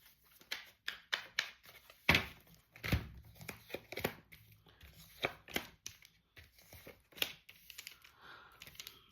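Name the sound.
shuffling tarot cards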